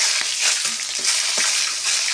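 Dried red chillies and bay leaves fry in hot oil for a mixed vegetable dish, giving a close, continuous hissing sizzle with a few small pops.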